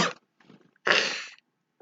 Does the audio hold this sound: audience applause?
no